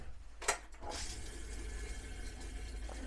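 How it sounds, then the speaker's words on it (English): A sudden gush of water followed by a steady rushing and trickling, fairly quiet, from a pedal-flush toilet on a 2026 Brinkley IX-23X being flushed and refilling. "open the flush valve, run the water till it's nice and clear"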